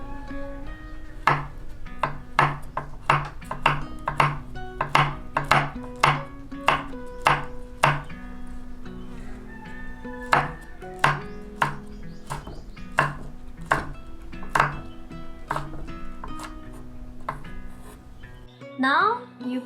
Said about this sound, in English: Cut the chili.